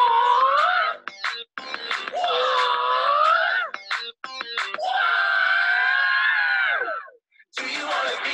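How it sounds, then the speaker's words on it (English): A group of voices gives a loud ninja yell during a children's lesson, a series of long, shouted, wavering cries with brief gaps between them. "We need to learn the ninja yell."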